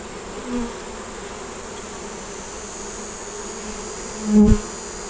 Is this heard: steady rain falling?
no